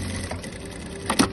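A Zoje A7100 industrial sewing machine sews decorative tack stitches, a quiet mechanical hum that ends in a couple of short, sharp stitching bursts.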